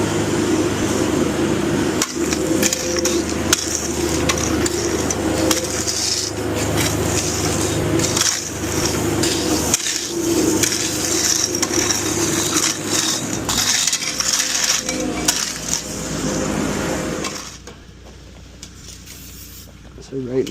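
Stone being spread and raked into a dusting over the ground ahead of a concrete garage floor pour: a steady, loud gritty scraping and rasping runs almost continuously, then drops away to a quieter background near the end.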